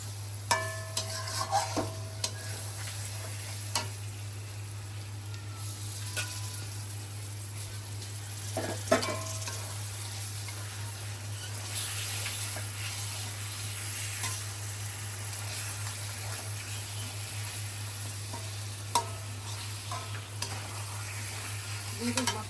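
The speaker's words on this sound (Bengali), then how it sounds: "আমি কিন্তু এটা এখনো কষাইতেছি হ্যাঁ কষাইতেছি" Pangas fish pieces fry in a pan with a soft continuous sizzle while occasional scrapes and knocks of stirring break through, alongside a steady low electrical hum.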